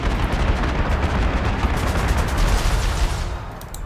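Bombing and artillery-style blasts from the strategy game Panzer Corps 2, a steady, dense rumble of explosions and fire that stays loud throughout, thinning slightly toward the end.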